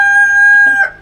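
A rooster in a backyard coop housing silkie chickens and other breeds gives one loud, close crow, a sustained bright call that tapers off near the end.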